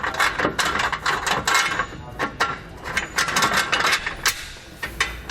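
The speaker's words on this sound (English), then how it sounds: "You're going to put on this large washer." A large metal washer goes onto a bolt through a bracket while a Roadmaster Direct-Connect base plate kit is set up, producing close, irregular metallic clinks, taps and scraping handling noises.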